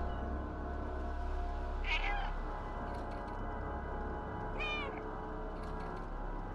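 A cat meows twice in the video game Stray, two distinct drawn-out calls a few seconds apart over a steady low background hum of game ambience.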